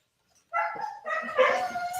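A dog barks and whimpers close by indoors, a short yip followed by a longer run of yelping, whining barks, with no talk over it.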